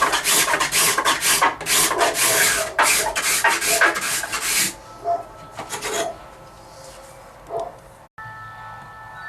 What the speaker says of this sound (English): some things you want to pay attention to while you're scraping binding